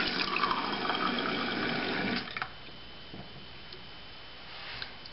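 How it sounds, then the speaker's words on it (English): A kitchen tap runs warm water into a bowl of dish soap for cleaning makeup brushes, a steady close rush of flow for about two seconds before it shuts off, leaving faint drips and quiet clinks. "So I'm just gonna warm up the water."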